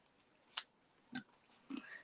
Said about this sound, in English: So I just need to trim that bit off there.